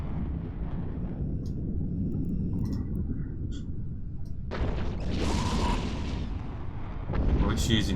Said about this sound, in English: It's using missiles.